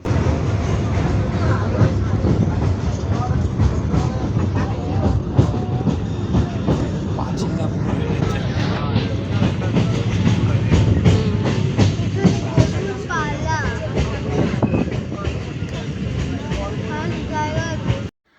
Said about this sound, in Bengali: নৈহাটি থেকে ট্রেন ধরে আমরা চলে আসলাম সোদপুরে গেদে লোকালে আসলাম